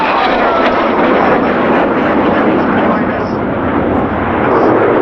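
Military display jets roaring overhead at the RAF Cosford Airshow in 2019, a loud, continuous broadband engine rush with a commentator's voice running over it throughout.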